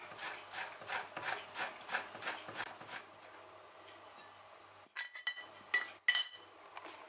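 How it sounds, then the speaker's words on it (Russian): Rhythmic scraping strokes of eggs and cheese against a fine grater, about a dozen regular rasps, then a pause followed by a few clinks and scrapes. "Также на мелкой терке натираем яйца и сыр."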